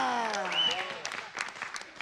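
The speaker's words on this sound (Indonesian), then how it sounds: "tepuk tangan semuanya" Applause from the audience at a wayang golek puppet show, a scattered patter of clapping that rises as a sung or spoken voice trails off, then carries on alone.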